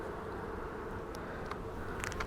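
Honeybees on an open beehive during a hive inspection, a steady low buzzing drone close by, with a few faint ticks and small knocks near the end.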